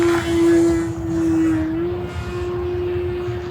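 An E-flite Gee Bee R-2 radio-controlled racing plane flies at full throttle, its electric motor giving a steady, fairly loud, buzzing whine that holds a single pitch with a slight dip and recovery as it passes, with no voices.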